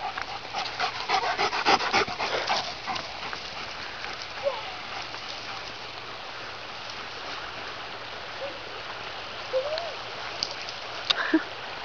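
A dog pants and sniffs close by near a river, quick breathy bursts at first then settling under steady flowing water, with a person speaking briefly.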